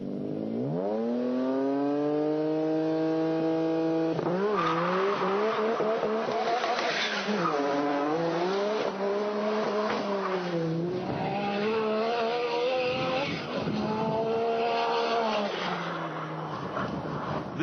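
A yellow Nissan Skyline GT-R R33 driven hard on a drag strip, its engine revving up through rising gear pulls, loud and close, with rapid shifts and repeated high-pitched surges.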